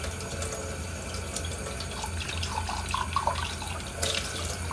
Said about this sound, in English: I'll turn the cold water on it, just because cold water seems to release all of the soap a lot better than the warm water